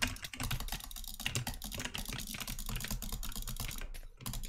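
Rapid, dense clicking on a computer mouse, butterfly clicking with two fingers during PvP gameplay, steady and fast with a brief pause near the end.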